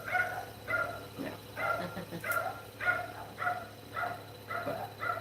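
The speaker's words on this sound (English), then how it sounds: "Like now, you can hear the dog. It's barking." A dog barks in a Philippine neighborhood, a steady series of about nine evenly spaced barks at moderate distance, with a brief spoken word in between.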